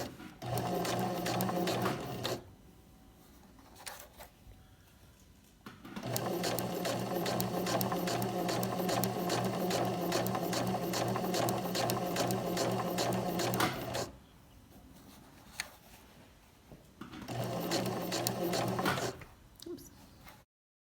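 A sewing machine back stitching a fly zipper runs in three separate bursts. Each burst is a steady, close mechanical whir, with short quiet pauses between runs.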